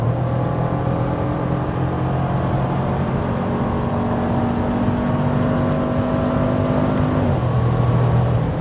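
A Lamborghini Urus Keyvany accelerating on a German road, heard as a steady, loud engine drone from inside the car whose pitch drops once near the end, as at a gear change, with no voices.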